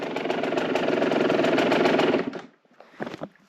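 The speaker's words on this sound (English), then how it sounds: "another bike idling freaking perfectly" A 2005 two-stroke motorcycle engine idles loudly with a rapid, buzzing putter for about two seconds, then cuts out, leaving a few scattered knocks.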